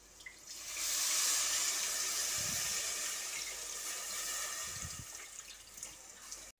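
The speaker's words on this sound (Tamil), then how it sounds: "இப்போ நம்ம ஊற வச்சுருக்க புளியை கரைச்சி ஊற்ற போகிறோம்." Tamarind water poured into frying masala for egg curry, a hissing, bubbling sizzle that swells quickly and holds steady, with a couple of soft knocks, then trails off.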